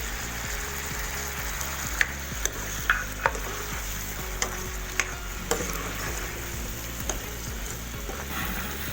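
Ground cumin and white pepper being stirred into chicken sizzling in a pot, a constant frying hiss with scattered sharp spoon clinks against the metal, close and without voices.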